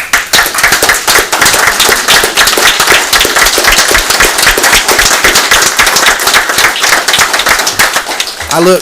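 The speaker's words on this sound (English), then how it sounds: "I'd ask you if you could please do it again" A loud, dense round of applause fills a city council meeting room in Roanoke Rapids, many hands clapping steadily and continuously throughout.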